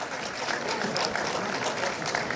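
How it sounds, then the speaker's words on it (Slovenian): Applause from an audience at a Slovenian grape harvest announcement event, a steady even wash of many hands clapping at moderate distance, continuous without speech over it. "ampak vseeno že zdaj en aplavz."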